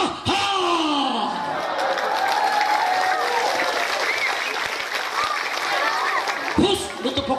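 An audience at an Islamic sermon claps and cheers continuously, loud and close, with voices shouting through the applause and the clapping breaking off into a few sharp claps near the end.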